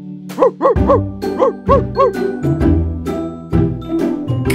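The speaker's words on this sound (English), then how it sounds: "D is for dog." A cartoon dog barks in a series of bright, bouncy yaps with a pitch that rises and falls, about eight of them in quick succession over sustained background music, loud and close.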